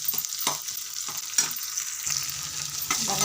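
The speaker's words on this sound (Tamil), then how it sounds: "வெங்காயம் தக்காளி நல்லா வதங்கிடுச்சு." Onions and tomato sizzle and fry in hot oil for a chicken curry, with repeated stirring scrapes in the pan, close and steady with no talking.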